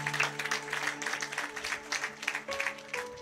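A church congregation claps in quick, rhythmic bursts of applause, with sustained keyboard-like tones held underneath.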